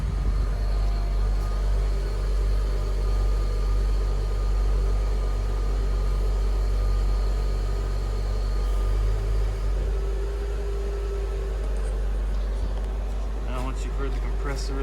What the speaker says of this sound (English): I can hear the compressor going now.